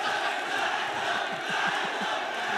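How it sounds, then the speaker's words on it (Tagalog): A crowd at a Filipino rap battle goes wild, a dense roar of cheering and shouting that holds steady for the whole short span, with a few rhythmic claps or thumps underneath. "Nag-wild yung crowd."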